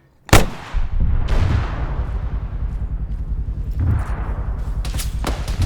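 A shoulder-fired rocket launcher fires from beside a vehicle during a military ambush, opening with a sharp, loud blast that booms and rolls away, followed by further heavy reports and a rumbling echo.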